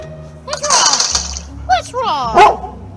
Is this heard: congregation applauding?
no